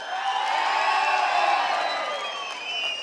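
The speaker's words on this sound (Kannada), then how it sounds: "ಹಾಗಾಗಿ ಮತ್ತೊಮ್ಮೆ ಅನಿಲ್ ಚಿಕ್ಕಮಾದು ಸರ್ ಅವ್ರಿಗೆ ಜೋರಾದ ಚಪ್ಪಾಳೆ." A large crowd applauds and cheers loudly for Anil Chikkamadu, the dense clapping and whoops holding steady and close throughout.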